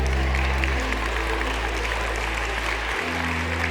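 An audience at a confidence talk gives a round of applause after a partner exercise, with steady crowd clapping over a low electrical hum.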